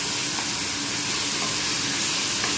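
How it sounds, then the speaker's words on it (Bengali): Ginger, garlic, chilli, cardamom, clove, cinnamon and cumin paste frying with browned onions for homemade chicken curry, a steady close sizzle with soft crackle and stirring, no voices. "পেঁয়াজটা ফ্রাই হয়ে গেছে, এরপর আমি মশলা দিয়ে দিলাম"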